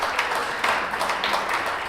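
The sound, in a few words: audience applause for a speaker at a talk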